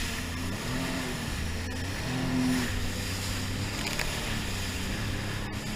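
A 300 horsepower jet ski speeding along the water off La Caleta beach, its engine droning steadily and loudly with a slight rise and fall in pitch, wind and water hiss over it, no speech.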